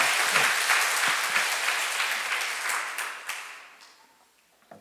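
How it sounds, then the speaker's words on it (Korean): A church congregation claps together in praise, a loud burst of many hands that gradually thins and fades over a few seconds, ending with a lone final clap. "주님께 우리 영광의 박수 올려드리겠습니다"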